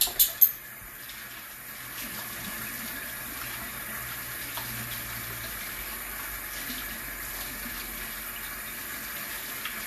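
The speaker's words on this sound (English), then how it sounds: "Let me wash my hand again." A tap runs steadily into a sink during handwashing, a soft continuous hiss of water with a few brief knocks at the start, faint and close.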